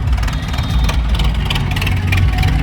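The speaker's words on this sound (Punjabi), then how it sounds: "ਵੱਡੀ ਗਿਣਤੀ ਟਰੈਕਟਰ ਟਰਾਲੀਆਂ" Many tractors with trolleys gathered at a farmers' protest at the Punjab border, a loud, dense low engine rumble and idling drone, close by and continuous without speech.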